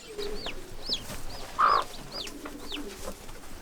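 A hen in a chicken enclosure gives soft, low clucks while her young chicks peep repeatedly in high, falling chirps nearby. One louder call stands out midway, and no one speaks.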